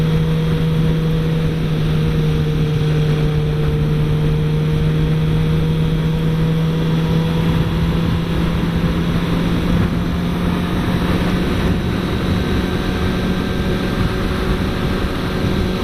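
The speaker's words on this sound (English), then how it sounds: "Of course, the bike is willing to rev to the moon." A 2016 Suzuki GSX-R 750 sportbike engine runs with a steady, loud, close drone and a gradually rising pitch, without clear sharp revs.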